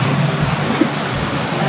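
Heavy rain pours in a dense, loud, steady hiss and patter, continuous throughout with no voices.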